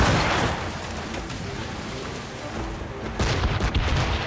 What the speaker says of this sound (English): They are firing a volley!